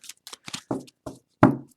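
A deck of tarot cards is shuffled by hand at close range, six quick papery bursts of riffling and tapping spread over under two seconds, the last one loudest.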